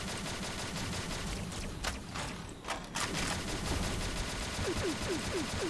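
Ex 8.5 shotgun firing in the game XSHOT in PVE mode, a dense, loud, continuous barrage of gunfire with a short dip partway through and some mechanical clicks near the end.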